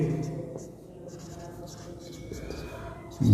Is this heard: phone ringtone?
no